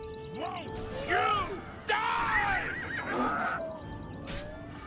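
A horse neighs and whinnies several times, loud and close, with shrill wavering calls over faint background game noise from Elder Scrolls IV: Oblivion.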